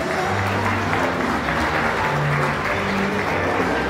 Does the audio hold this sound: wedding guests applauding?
yes